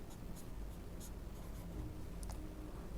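Marker writing an integral formula on a board, faint soft strokes and scratches close by, quiet and alone over steady background hiss.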